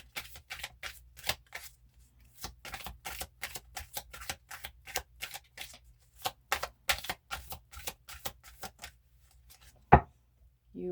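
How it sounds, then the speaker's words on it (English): Tarot cards being shuffled by hand in quick clustered bursts of crisp, papery riffling and snapping, close and clear with short pauses between runs, ending in a single sharp tap. "I'm just going to shuffle for it."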